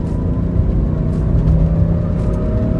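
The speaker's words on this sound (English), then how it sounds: "let's go ahead and get up on the on-ramp here. Listen to that motor." A 1985 Mercedes 500SEL Euro-spec sedan with a W126 body accelerates up an on-ramp, its engine a steady loud rumble and whir that fills the cabin with no voices.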